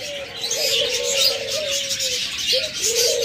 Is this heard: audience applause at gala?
no